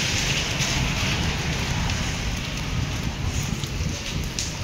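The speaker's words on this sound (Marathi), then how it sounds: "खूपच जास्त जोरात पाऊस येतोय." Heavy monsoon rain pours down steadily in a dense, loud hiss of drops hitting surfaces, continuous and close with no voices.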